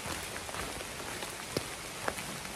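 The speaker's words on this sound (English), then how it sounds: "It's officially raining." Steady rain patters down on the Appalachian Trail, a dense, even hiss with a few louder drops striking nearby surfaces, close and continuous with no talking.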